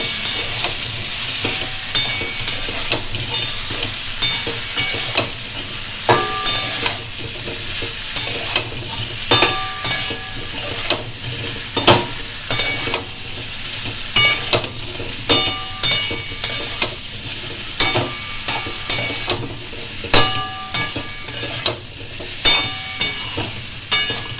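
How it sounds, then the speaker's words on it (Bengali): Ground cumin, coriander and Kashmiri chili powder fry in a pan with paste, a constant hissing sizzle broken by repeated sharp scraping stirs that quicken into a regular rhythm, close and fairly loud, with no voices. "এবার এগুলোকে আমি ভালো করে কষে নেব।"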